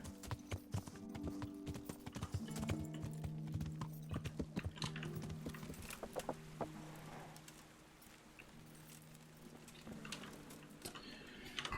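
Steady clip-clop of horse hooves in Kingdom Come: Deliverance, a rhythmic run of close, crisp hoofbeats over a faint ambient bed, with no talking.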